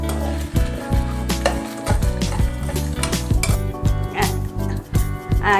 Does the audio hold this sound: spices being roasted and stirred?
yes